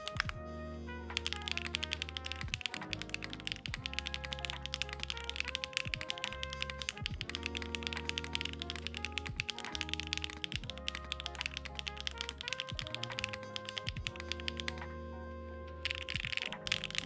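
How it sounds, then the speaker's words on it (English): A custom MX mechanical keyboard clacks under steady fast typing, dense rapid keystrokes running almost continuously for the whole stretch, close and crisp, pausing briefly near the end before resuming; no talking. "So it has your normal typing mode, which is just an MX keyboard."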